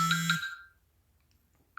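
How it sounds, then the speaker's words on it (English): An electronic alarm sounds indoors with a loud, harmonic beep tone that cuts off quickly, followed by quiet and then the start of another short beep. "An alarm. I have crazy alarms."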